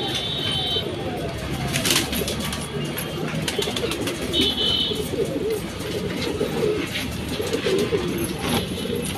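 Rampuri pigeons coo softly and repeatedly in the background, layered over a busy mix of rustling, chirps and faint human voices nearby.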